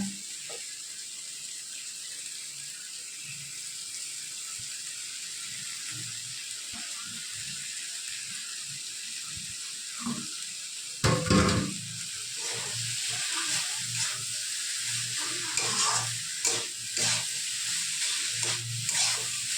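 Chopped banana flower added to spiced oil in a pan for a Bengali mocha dish, a constant frying hiss that swells louder and crackles more once the vegetable drops in, with occasional stirring scrapes, close and without speech.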